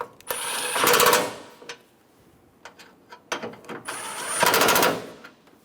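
A ratchet wrench snugs down the upper support rod bolts on a 2014–2018 Chevrolet Silverado, giving two close bursts of rapid clicking separated by quieter handling taps.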